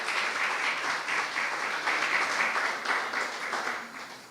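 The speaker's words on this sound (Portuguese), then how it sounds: "Vamos aplaudir ao Senhor pela sua palavra." A church congregation at a Sunday service applauds together, a steady round of clapping with pulsing rhythm that fades near the end, moderately close and without talk over it.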